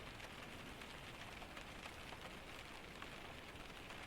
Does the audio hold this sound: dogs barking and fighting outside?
no